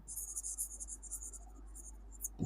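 Chalk or marker writing on a board during a math lecture, a steady run of faint scratchy strokes over a low constant hum, ending with a small knock.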